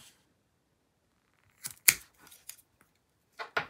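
Scissors snip nylon paracord strands flush on a King Cobra bracelet, a few short crisp cuts close by in an otherwise quiet space, with a couple of isolated clicks between them.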